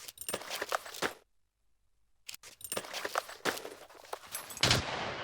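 Gunfire in the survival video game Scum: a burst of sharp, loud shots, a second of silence, then a longer spread of cracking reports at close range.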